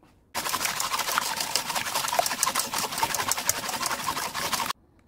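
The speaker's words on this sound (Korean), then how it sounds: "거품기로 거품을 내왔습니다." An electric whisk whips batter into foam, whirring steadily for about four seconds, starting and stopping abruptly, heard up close with no talking.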